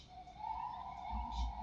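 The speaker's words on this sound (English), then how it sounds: "You hear that? You hear those sirens?" Distant emergency sirens wail faintly in the background, holding a steady tone over a low rumble for the short stretch.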